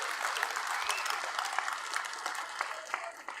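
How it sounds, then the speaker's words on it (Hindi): A crowd at an outdoor political rally in Haryana claps steadily to welcome a speaker, with continuous moderately loud applause and scattered sharper claps throughout. "जोरदार तालियों से स्वागत"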